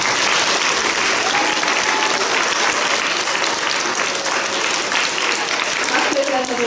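A school audience of children at Laugarnesskóli claps in sustained, dense applause that stays loud and even throughout, with a few voices mixed in.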